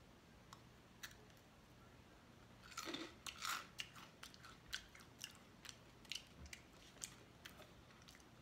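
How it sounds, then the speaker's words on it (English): Close, quiet crunching of an Asian snack being chewed, with sharp irregular crunches repeating over a faint background hiss. "these are super crunchy, like really crunch, super crunchy"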